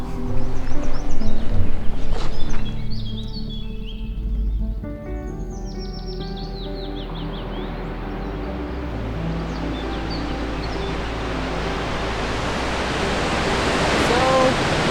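A steady, broad rush of a waterfall in Canada fills the scene, with a few bird chirps scattered over it near the start and end.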